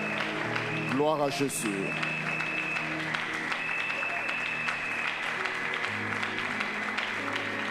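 A church congregation at a Sunday service claps steadily throughout, with a voice calling out over the applause near the start and a sustained tone running beneath the clapping.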